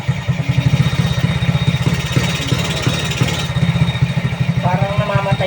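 A motorcycle engine idles roughly with an uneven, sputtering pulse that falters as if about to stall, close and loud, with someone talking over it.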